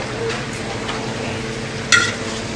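Food fries steadily in hot oil with a constant soft crackle, and a brief clink of a utensil against the pan partway through.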